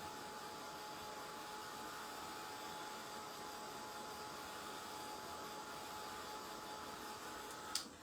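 A hair dryer dries a chalk transfer on a round canvas general store sign, giving a soft, steady, even blowing hum throughout, with a brief click near the end.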